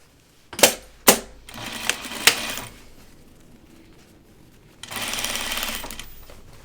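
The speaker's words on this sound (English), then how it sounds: "So it'll be easier to sew it if I stay on the shaped piece." A home sewing machine stitches a curved, shaped garment piece: a few sharp clacks at the start, then a short run of fast, steady mechanical whirring, close and moderately quiet.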